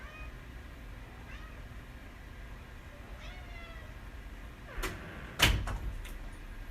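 A cat named Bernie meowing and crying outside a door, several faint plaintive meows spread across the stretch, followed by a door being opened or slid with a louder thump and rattle near the end.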